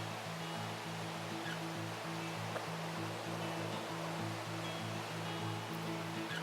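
Multnomah Falls in the Columbia Gorge pours with a steady, dense roar of falling water, constant and enveloping with no voices, a low droning hum running underneath.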